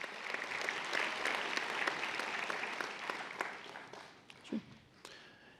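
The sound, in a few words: applause for PhD graduates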